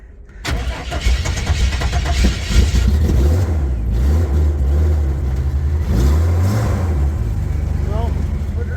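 A Willys jeep engine cranks and catches, then revs up and down loudly close by, settling between throttle blips with a rough mid-pitched rumble.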